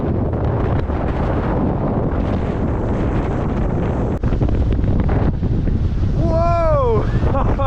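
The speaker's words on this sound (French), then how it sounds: "c'est vraiment unique avec toutes les vagues qu'il y a aujourd'hui" Ocean waves surge against the Bonavista Peninsula coast under heavy, roaring wind buffeting the microphone, a loud continuous wash with a voice briefly exclaiming near the end.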